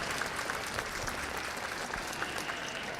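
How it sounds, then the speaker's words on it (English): Steady audience applause for youth exhibitors at a county livestock lamb show, an even wash of many hands clapping that is moderately quiet and continuous, with no talk standing out. "Let's give all these exhibitors a round of applause here for a job well done."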